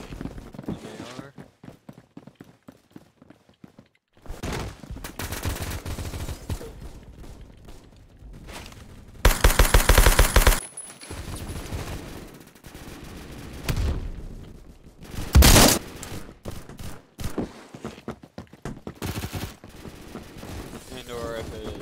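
SMG or assault-rifle fire in the Roblox shooter Phantom Forces comes in rapid bursts and single cracks, with several loud volleys among steadier game noise. A player talks over parts of it.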